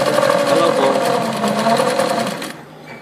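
A Singer sewing machine stitches in reverse with a fast, steady mechanical whir and needle clatter, close and loud, while someone talks over it; the motor stops just before the end.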